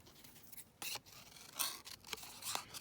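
Scissors snip out a paper butterfly at a craft desk, giving a few quiet, close crisp cuts and rustles in short irregular bursts.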